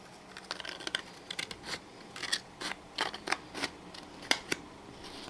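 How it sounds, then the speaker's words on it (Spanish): Scissors snip through malleable plastic while a recycled-material basket is being made, giving a run of quick, close, crisp cuts in an irregular rhythm. "Con la tijera es mucho mejor y más fácil, porque este plástico es bastante maleable y se puede cortar bien sin ninguna dificultad"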